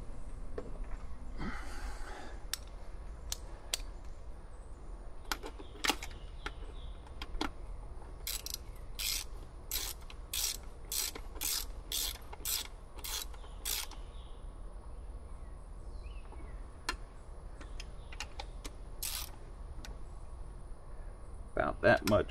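Ratchet wrench tightening the fuel rail heat shield on a 1996-2006 Jeep Wrangler TJ or LJ, a run of about a dozen quick sharp clicks in steady rhythm, close and clear, with scattered taps and clanks before and after.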